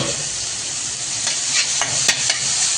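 Chopped fenugreek leaves fry in a pan with red chilli, sugar, salt, turmeric and ajwain, giving a loud steady sizzle with occasional soft stirring scrapes.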